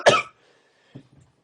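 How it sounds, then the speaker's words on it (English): A man's violent fit of coughing after gulping a drink: one loud harsh burst up front, then after a pause a couple of fainter, weaker coughs trailing off, heard alone without talk. "immediately fell into a violent fit of coughing"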